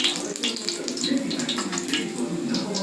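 Bitter gourd slices sizzle and crackle in hot oil in a pan, a continuous hissing fry with scattered pops, close up and steady throughout.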